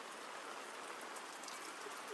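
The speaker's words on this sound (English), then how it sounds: "it has been raining steadily since" Steady rain falls on and around a parked car during a solo outback trip, a continuous even hiss with no breaks and no voices.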